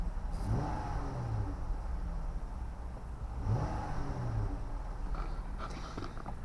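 A Fiat Freemont engine revs up twice in quick succession, each rise and fall distinct over a steady idling hum, with a brief rattle near the end.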